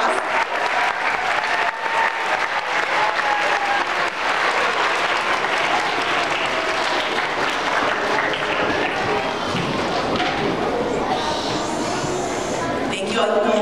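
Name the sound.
applause for winners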